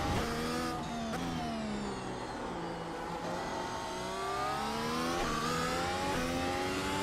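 Race car engine from the iRacing sim at the Mexican Grand Prix circuit, Autódromo Hermanos Rodríguez, droning loudly and steadily throughout, with rising and falling revs as it shifts through gears.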